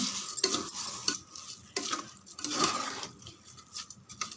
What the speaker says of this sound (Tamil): எல்லா அரிசியும் சேர்த்துருங்க ஃப்ரெண்ட்ஸ். இங்கே பாருங்கள், நல்லா கலந்து விடுங்க.